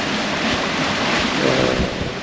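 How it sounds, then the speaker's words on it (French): Strong gusty wind roars across a microphone aboard a sailing boat at sea between Monastir and Valletta, a dense continuous rushing noise with low buffeting and no talk. "On se prend la bulle où il y a plus de vent, avec des rafales."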